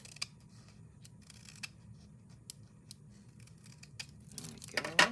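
Scissors snipping through a paper index card during a craft project, a series of small, close, crisp cuts spaced irregularly, ending with a louder rustle of paper.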